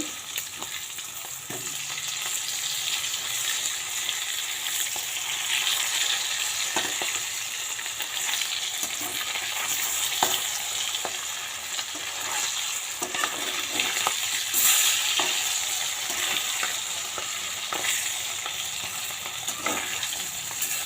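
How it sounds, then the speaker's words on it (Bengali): Thin fish slices frying in oil in a pan, a dense, even crackling sizzle that holds steady for the whole stretch, close and fairly loud, with occasional small pops and no voices. "মাছটা উল্টিয়ে দিই এক পাশ হয়ে গেছে"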